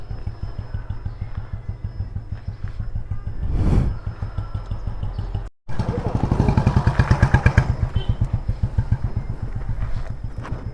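A Honda Highness motorcycle engine runs with its clutch wire newly tightened in the Spiti Valley, a close, rhythmic thumping idle that rises in brief revs, cuts out for a moment, then thuds back faster and louder.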